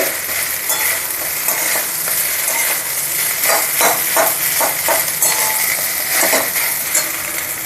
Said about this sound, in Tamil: ரைஸ் போட்டுக்கிறேன் இதை நல்லா பரட்டி விட்டுண்டு